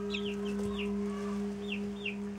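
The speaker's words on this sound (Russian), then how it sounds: "Неплохие цыплята." Young broiler chicks, Lohmann Brown and Breeze Bar, peep with several short high chirps over a steady electrical hum, fairly close with no one talking.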